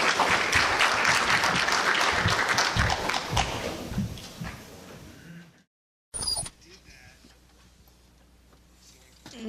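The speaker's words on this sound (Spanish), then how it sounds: "Un aplauso, por favor, para David." An audience at an international symposium on ethics in clinical trials applauds a conference speaker, with loud, dense clapping that fades out over about four seconds, followed by a brief silence, a sharp click and quiet room noise.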